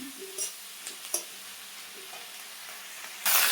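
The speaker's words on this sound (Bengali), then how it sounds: "নুন হলুদ দেওয়া হয়ে গেছে। এখনো আমি কষাবো।" Vegetables and shrimp with salt, turmeric and green chili sautéing in a pan, a quiet low sizzle with occasional spatula taps, then a louder burst of hissing at the end, no talking.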